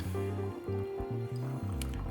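Water is poured steadily over ground coffee in a Paragon brewer, making a continuous trickling and splashing under a low hum, with a brief brighter splash near the end.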